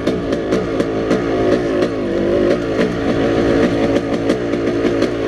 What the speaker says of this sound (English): look at that, it's a two-stroke.